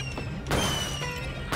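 Fireworks bursting in the battleship auto-scrolling course of Super Mario Bros. Wonder: two sharp booming pops about a second apart, loud over steady, bright game music.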